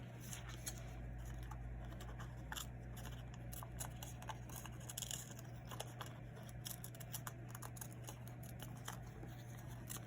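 Scissors snip through collage paper close by in quiet, irregular cuts and rustles over a faint steady hum.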